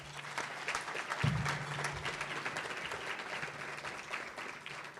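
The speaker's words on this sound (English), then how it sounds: "So let's give them a round of applause" Sustained applause from an audience at a township awards ceremony honoring the police department, many hands clapping steadily at moderate volume with a low hum beneath.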